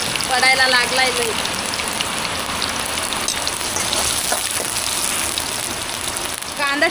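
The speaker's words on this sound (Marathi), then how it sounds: "पाऊस पण लई जोरात आलाय, पडायला लागलाय लई." Heavy rain pours steadily near a riverbank outdoor cooking spot where crabs are being cooked over a wood-fired stove, a constant dense hiss filling the scene with brief voice-like sounds.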